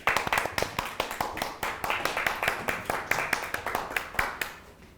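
Applause from a small seated audience at the launch ceremony of a picture-book psychology growth institute, as a presenter walks up; dense, uneven clapping from nearby hands, steady throughout with no talk over it.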